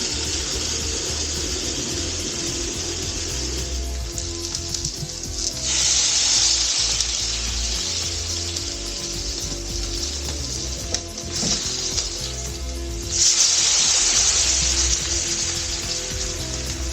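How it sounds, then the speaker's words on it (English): Home-cured, smoked pork belly bacon sizzles and crackles in a hot frying pan, a steady hiss that swells louder in bursts. "Hear that sizzle."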